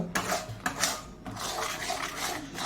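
A spoon scrapes and clinks in a frying pan while mashed taro is stirred until sticky, making a few sharp metallic taps, then continuous soft scraping close by.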